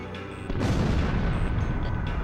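Heavy explosions from AA guns and SAM sites destroyed in the combat flight game Ace Combat Zero, a deep rumbling blast that hits suddenly and keeps roaring loud and close to the end.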